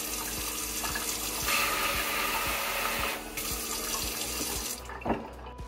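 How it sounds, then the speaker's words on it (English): A drinking water tap runs into the sink of a 2021 Sprinter 4x4 van, a steady close splashing stream that changes tone partway through before stopping, with a few soft knocks around it. "As you can see here too is our drinking water tap."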